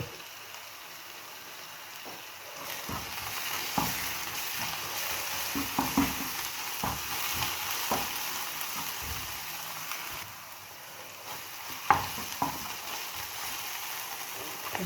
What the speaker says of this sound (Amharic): እሺ ቲማቲሙ እየበሰለልን ነው።